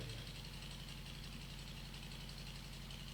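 A generator runs steadily during a church sermon after the lights have gone out, powering the sound system, with a continuous low rumbling drone and no one speaking over it.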